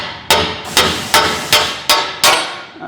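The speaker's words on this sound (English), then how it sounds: "Time for the hammer." Six loud hammer blows land at a steady, even pace, each a sharp metallic strike ringing briefly before the next.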